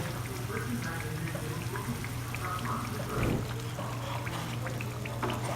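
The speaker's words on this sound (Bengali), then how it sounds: "এভাবে দুপিট লাল করে ভাজতে হবে। আঁচটা কিন্তু আস্তেই থাকবে।" Gujiya pastries frying in oil over low heat for a mawa Holi recipe, giving a steady soft sizzle with faint crackles and a brief louder bubbling burst partway through, heard alone without talk.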